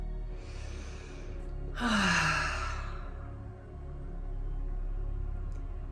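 One deep breath is drawn in and released as a long, audible sigh, close and clear over a quiet ambient drone, with faint breathing before and after.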